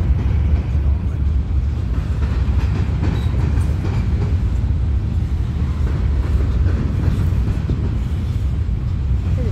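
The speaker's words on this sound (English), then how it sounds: "we have a train on the bridge up top as well" A Norfolk Southern train rolls across a high bridge overhead, a steady loud rumble with rail clatter sustained throughout, no voices.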